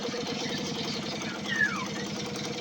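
A vintage Suzuki FR50 motorcycle engine runs with a steady, fast mid-pitched putter, close and continuous throughout, with a faint voice briefly underneath.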